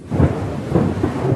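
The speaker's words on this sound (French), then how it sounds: "Des éclairs, menaçants." Thunder from a lightning storm over the Alps in Isère, a loud rolling rumble that swells and lingers with rain-like hiss underneath, no voices.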